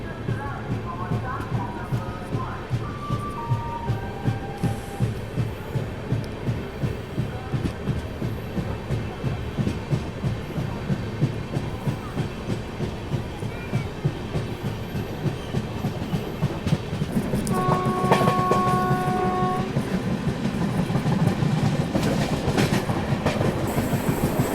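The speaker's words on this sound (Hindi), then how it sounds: "इस तरफ गंगा गोमती एक्सप्रेस का अराइवल होने वाला है" The Ganga Gomti Express rolls into Phaphamau Junction, its wheels giving a steady, rhythmic clickety-clack across the rails, with horn-like tones sounding near the start and again later while the train noise swells and stays close.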